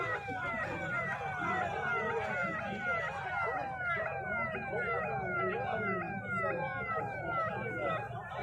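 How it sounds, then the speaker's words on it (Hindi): An ambulance siren wails in rapid repeating sweeps at the scene of a vehicle crash into a canal, loud and continuous, with traffic rumble and voices underneath. "ये दूसरा रामपुर वाली एम्बुलेंस है दूसरा।"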